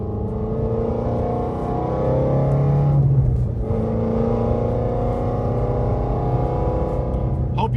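A Shelby GT350R's engine and exhaust rumbling loudly and steadily, with a brief swell in revs midway and a deep, raunchy tone throughout.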